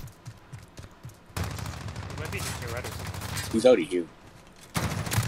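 Gunfire in the video game Modern Warfare: a sustained burst of rapid shots starts after a quiet opening with light taps, then stops and resumes loudly near the end, with a player speaking briefly over it.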